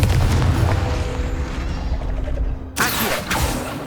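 A Confringo fire spell in Hogwarts Legacy: a low booming rumble that holds for a few seconds, then a sharp, bright blast near the end that rings out loud and close.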